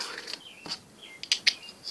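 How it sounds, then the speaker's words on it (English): Birds chirping outdoors in the morning, a few short high tweets and calls scattered through a quiet background, fairly faint and with no talking. "the birds are just having a fun time today outside. That's what I woke up to. Chirping birds."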